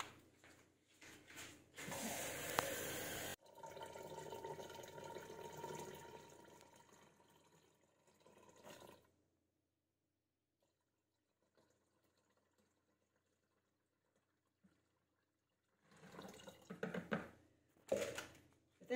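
Water runs from a tap and is poured into a cooking pot, a loud gushing burst and then a softer trickle, a quiet pause, and further splashing near the end.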